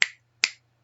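Two crisp finger snaps about half a second apart, close and clean with a quiet hum underneath.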